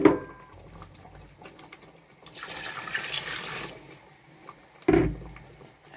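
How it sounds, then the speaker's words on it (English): Water runs and splashes in a continuous pour into a pot of Nigerian banga soup, with a couple of short clanks of the pot around it and no speech. "I will add water."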